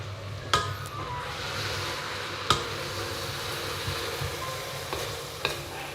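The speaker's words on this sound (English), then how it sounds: "sizzle sounds. Yeah, it's the greatest sound." Onions frying for French onion soup, a constant sizzle in a hot pan with a few sharp clicks of stirring utensils scraping against the pan, heard without talk.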